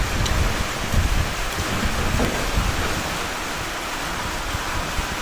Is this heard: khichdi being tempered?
no